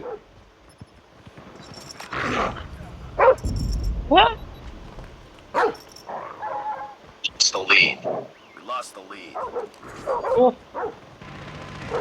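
Dog barking in the Call of Duty Mobile game: short yips and barks come in bursts through the match, mixed with game sounds and people talking over them.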